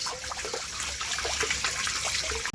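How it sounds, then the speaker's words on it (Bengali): Large shelled prawns being washed under running tap water, a steady close trickle and splash that runs on without talk before cutting off abruptly near the end. "এইবারে আমি ভালো করে ধুয়ে নিচ্ছি কি বড় বড় চিংড়ি মাছ"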